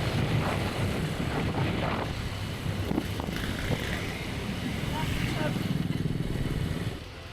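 A motorcycle ride in Indonesia, the engine a steady rumble mixed with buffeting wind noise throughout, with faint voices now and then, before the sound drops off at the end.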